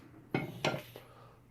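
Cooked chicken in a metal pan being drained, heard as two sharp clanks of the pan close by followed by a softer knock, then quiet.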